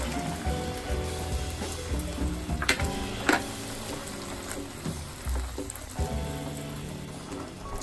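Noodle sauce thickened with a cornflour slurry bubbling and sizzling in a pan, a steady crackling hiss with scattered pops and occasional clinks of a utensil, close and continuous.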